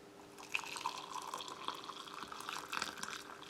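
Hot water splashes and trickles from a kettle into a cup of chocolate drink powder from a British field ration, a soft close pouring stream lasting a few seconds over faint background hum.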